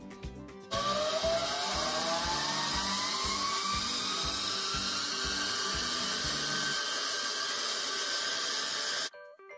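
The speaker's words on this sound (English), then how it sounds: "At this moment, while accelerating the flywheel, the motor uses approximately 50 watts of power." An electric motor spins up a flywheel toward 2300 RPM, a rising whine that climbs steadily in pitch over a rhythmic mechanical chatter, loud and close, then cuts off abruptly near the end.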